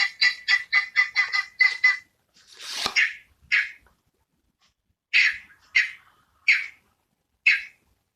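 A group of guineafowl calling loudly together, opening with a rapid chattering run of harsh notes, followed by scattered, spaced, raspy squawks up close.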